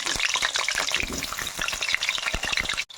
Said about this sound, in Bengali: এবার আলুগুলো তেলের মধ্যে দিয়ে ভেজে নিচ্ছি।